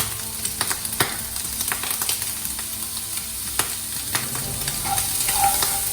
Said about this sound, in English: I'm going to cook the onions with the bacon.